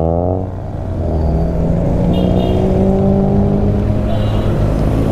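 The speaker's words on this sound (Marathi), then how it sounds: "हे बघा सर्व रेसिंग कार आहेत" Racing cars at a motorcycle rally in Harsul rev hard nearby, a loud, steady engine drone with rising and falling pitch that carries through the whole stretch without pause.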